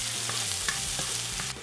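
Roasted garlic paste and mushrooms frying in a pan, giving a loud, close, continuous sizzle broken by a few scrapes and stirs of a utensil against the pan. No voices.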